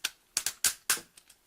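The ratchet knee joints of a Transformers Masterpiece Grimlock toy click sharply as it moves, about six crisp close clicks in an irregular sequence, with the last ones fainter.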